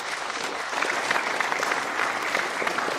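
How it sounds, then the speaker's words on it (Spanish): Audience applause after a lecture before a question-and-answer session, a steady, moderately distant wash of many hands clapping throughout, swelling slightly after the first second. "otro aplauso para la sesión de Sabel."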